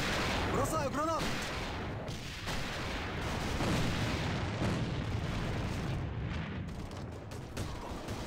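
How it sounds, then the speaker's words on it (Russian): A grenade explosion and gunfire fill a combat video game with a loud, dense barrage of blasts and shots, plus a few quick rising whistle-like tones early on. "Бросаю гранату."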